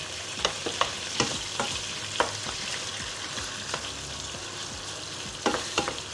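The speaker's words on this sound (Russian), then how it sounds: "курица хорошо жарится" Chicken sizzles steadily in a hot pan, with sharp clicks and scrapes of a utensil stirring it now and then; no voices.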